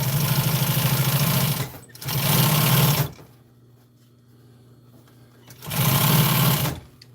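A sewing machine stitching a truck storage bag, loud and close: three bursts of rapid mechanical whirring separated by pauses with a low hum.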